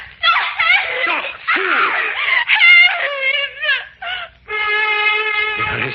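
A woman screams and wails in a radio drama as a hand is clamped over her mouth, her high, harmonic cries rising and breaking across the clip, loud and close.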